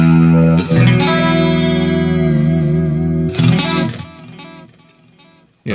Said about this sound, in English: EVH delay pedal